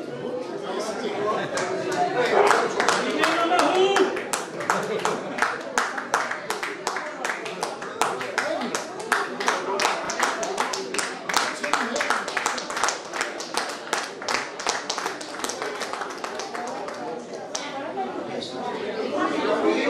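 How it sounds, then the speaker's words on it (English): Clapping from a graduates' reunion meeting gathering, uneven hand claps of a modest group mixed with chatter and voices, continuing in bursts for about twenty seconds. "A big round of applause"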